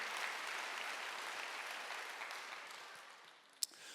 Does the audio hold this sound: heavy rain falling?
no